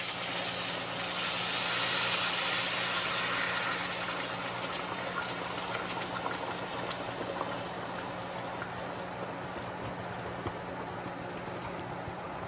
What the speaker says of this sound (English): I'm going to add in 2 liters of water, which is equivalent to about 8 and a half cups of water.